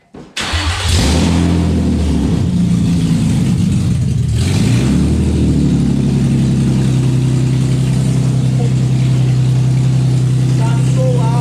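A Nissan 350Z with a straight-pipe exhaust, headers back, cranks to life and then idles and revs loudly and close by, a deep continuous engine roar that fills the whole clip.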